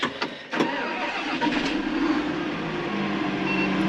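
A tractor's engine runs steadily at close range in a farm field, its tone rising slightly midway as it works harder, with no talk over it.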